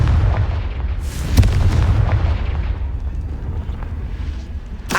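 In the Hogwarts Legacy video game, a Confringo blast spell explodes with a loud, deep booming burst and a rumbling tail, followed by further heavy crashing blasts.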